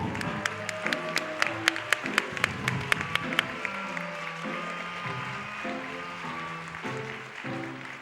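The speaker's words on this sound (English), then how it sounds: "So I think we should give them a round of applause." Crowd applause for the runners at a Summer Games Done Quick 2015 speedrun event, a steady wash of clapping with sharp claps standing out early, all mixed with background music.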